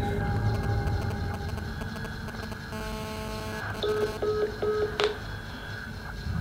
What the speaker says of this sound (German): Okay, ich rufe da jetzt an.